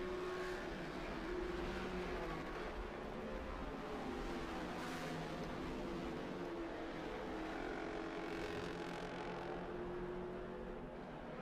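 Race car engines at Road America during a Ligier Junior Formula Championship race, a steady loud drone with rising and falling passes, continuous over the whole stretch with no talk.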